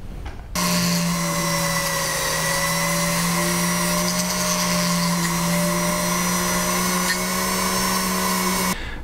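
A rotary power tool spins green radial bristle polishing wheels, starting after a brief silence. It holds a steady, high, tonal whine with a faint brushing hiss for several seconds, then stops abruptly.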